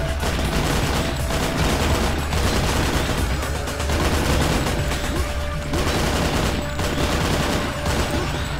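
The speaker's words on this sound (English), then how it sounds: "I think this is a rifle." Rifle fire in the video game Painkiller, Booh Dead City level: loud, rapid, nearly unbroken gunfire with a dense combat din underneath and no talking.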